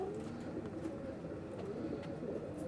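Racing pigeons in a Bradford loft coo quietly and continuously, a low burbling chorus of several birds heard close up in a faint room tone with no voices.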